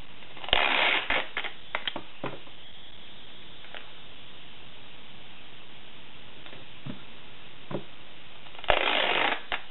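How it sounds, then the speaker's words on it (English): Packing tape is pulled and pressed over paper to make a DIY shooting target. Short, close crackling bursts come at the start and again near the end, with a mostly quiet stretch and a few small ticks in between. "you take the packing tape and cover all of"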